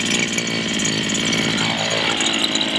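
A petrol strimmer engine runs steadily just after a pull start, a close, constant buzzing two-stroke drone with no pauses.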